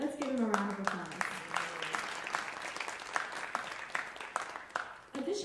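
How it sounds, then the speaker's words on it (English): Audience applause from a seated crowd at a campus Women's History Month event honoring the Dean of Students, a steady wash of clapping lasting several seconds over a fading voice at the start. "Let's give him a round of applause."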